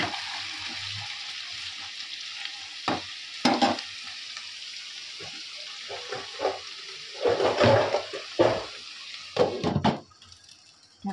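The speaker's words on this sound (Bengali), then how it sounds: "আলুগুলো একটু ভাজা ভাজা হবে" Potatoes fry in a pan with a steady close sizzle, broken by several louder scraping bursts as they are stirred; no one speaks.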